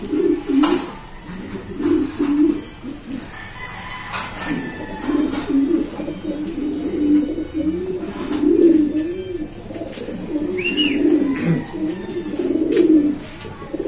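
Pigeons coo in a loft, a steady run of soft, low, throaty coos from several birds close by, continuing alone without talk.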